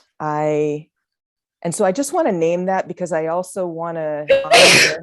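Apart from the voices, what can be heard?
sneeze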